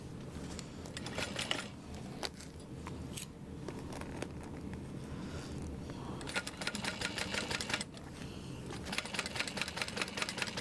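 A sewing machine runs slowly over a 3/8 inch seam on a bag, producing an uneven, rhythmic mechanical clatter close by that picks up pace toward the end.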